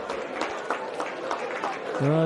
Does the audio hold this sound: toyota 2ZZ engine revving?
no